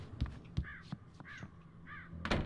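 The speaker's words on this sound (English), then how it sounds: "You don't want to let all these weird birds in?" Several crows caw in a rough, irregular run of harsh calls, a couple of them close and loud, over a faint low background hum.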